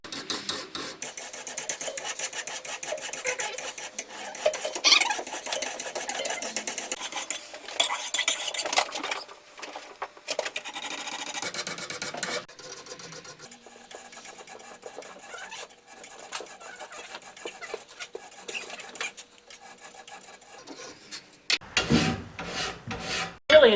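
Steady rasping strokes of a mill file on a hand-forged steel carving chisel, rhythmic back-and-forth scraping close up, pausing briefly and resuming, with no talking.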